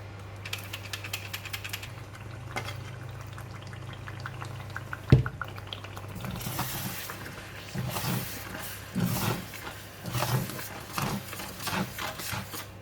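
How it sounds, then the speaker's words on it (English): Curry paste for chicken rendang fries in a pan with a steady crackle and a soft bubbling sizzle. It swells into busier, louder spattering partway through, over a low hum, close and moderately quiet. "we're going to fry the curry paste"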